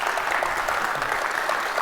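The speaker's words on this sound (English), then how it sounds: "Let's give him a round of applause." A conference audience applauds at the close of a FinOps X session in San Diego, steady dense clapping that fills the whole stretch at even loudness with no speech over it.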